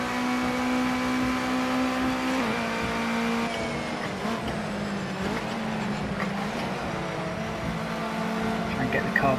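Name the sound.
race car engine revving, Project Cars 2 video game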